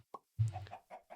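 A freshly hatched cockatrice in a block-building video game makes short clucking, chicken-like calls: a few brief, close chirps and one louder throaty cluck, alone without talk.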